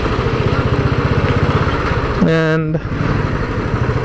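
Royal Enfield Bullet motorcycle engine idling with a steady, even thump that runs throughout, briefly overlapped by a short tonal sound and a spoken word near the middle.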